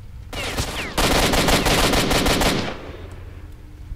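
A rapid burst of automatic rifle fire rattles loudly for about two seconds in the video game S.T.A.L.K.E.R.: Shadow of Chernobyl, preceded by a brief lead-in noise and fading into quiet ambience.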